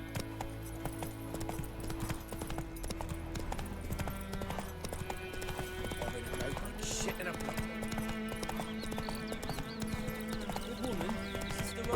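Horse hooves clip-clopping in The Witcher 3 game, a steady rhythmic beat running throughout under game music and ambience, with a brief whinny partway through.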